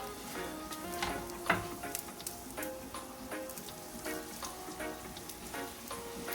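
Tomatoes dropped into a hot pan for a Jamaican smoked herring dish set off a steady crackling sizzle with small pops, moderately loud and close, with no voices.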